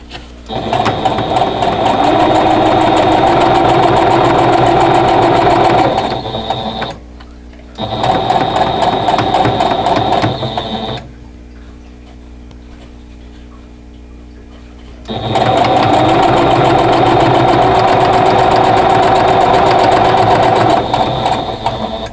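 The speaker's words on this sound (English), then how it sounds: "then I'm going to watch where my stitching comes" A sewing machine stitches a seam through a Contrary Wife quilt block, loud steady rapid mechanical whirring in three long bursts separated by short pauses and a quieter stretch.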